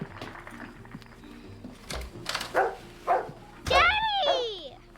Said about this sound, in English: Daddy got me a doggy!